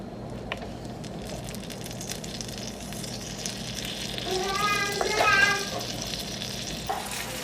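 Prawns roasting on high flame in a pan for Kerala-style chemmeen roast, giving a steady, moderately quiet sizzle and frying crackle with a brief burst of louder stirring and scraping near the end.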